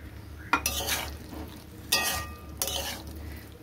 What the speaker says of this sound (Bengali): পনিরের সাথে মশলাটা ভালো করে মিশিয়ে নেব।